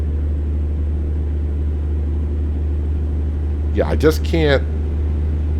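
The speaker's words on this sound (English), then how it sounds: "Wow, the sound of this engine is going to take me a while." A truck engine idles steadily in American Truck Simulator, a constant low drone that runs the whole time, with a brief stretch of talk partway through.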